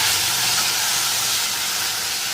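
Mustard seeds and cumin hit hot oil for a broad-bean tempering. They throw up a loud, steady, close hiss of sizzling that barely changes and has no voices over it.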